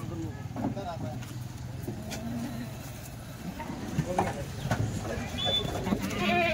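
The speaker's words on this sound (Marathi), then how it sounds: "हा बोकड" A billy goat bleats a few times on a goat breeder's farm, the calls fairly near and partly masked by people talking and some vehicle noise.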